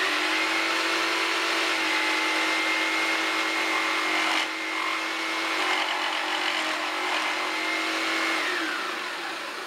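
A Blade Runner saw rip-cutting a piece of fairly dense wood lengthwise, a loud steady motorized whine and grinding that holds for about four seconds, dips briefly, then continues through to the end with no talk.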